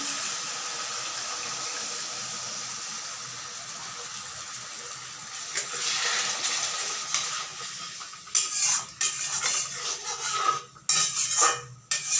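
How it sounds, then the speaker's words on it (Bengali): Water poured into a pan of pangas fish curry on the stove, a steady hiss and sizzle with clinks of utensils and sharper bursts toward the end, close and moderately loud. "সামান্য একটু জল দিয়ে দিচ্ছি"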